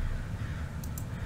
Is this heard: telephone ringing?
no